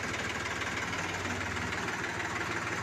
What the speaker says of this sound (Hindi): कितना मस्त है साउंड 380 प्राइमा G3 सीरीज का